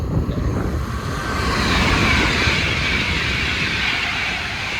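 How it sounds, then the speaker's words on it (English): A train passes close by, a loud, steady rumble with rushing, windy noise that swells and holds for several seconds, with no talk over it. "that's a good train"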